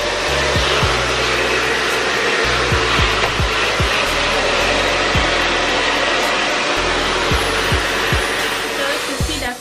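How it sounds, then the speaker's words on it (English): A hair dryer runs loud and steady throughout, blowing over a shower cap while dyed short natural hair is processed, with a constant airy whir and faint knocking bumps underneath. "you put on a shower cap, then you use the dryer"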